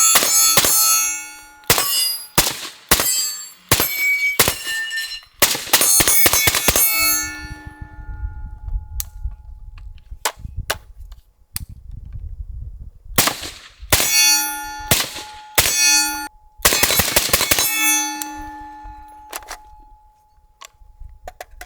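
Suppressed SIG 556 factory SBR rifle with a 10-inch barrel fired at a steel target, a series of sharp metallic clangs in irregular bursts, some quick doubles, with ringing tails and pauses between strings.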